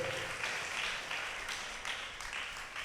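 Faint, diffuse clapping from a congregation at a novena Mass in a Tiruchirappalli church, a low, continuous patter heard from a distance that rises and dips slightly.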